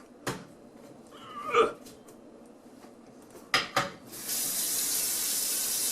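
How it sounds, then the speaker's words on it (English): Tap water runs into the garbage-disposal side of a kitchen sink during a leak check for a smelly drain, starting as a few knocks and splashes, then settling into a steady, close hiss of flowing water. "water coming down from the garbage disposal side"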